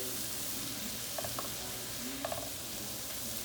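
Vegetables, including tomato and green onion, fry in a pan for crawfish étouffée, giving a steady low sizzle throughout with a couple of faint clinks partway through.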